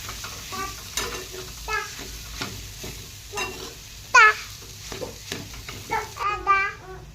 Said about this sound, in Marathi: तूप गरम झालं, त्याच्यामध्ये रताळे फ्राय करायला टाकून दिले.